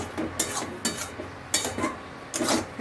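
Egg bharta of smashed egg with coriander stirred in a pan, a spatula scraping the metal in about five distinct strokes at an irregular pace, close and clear.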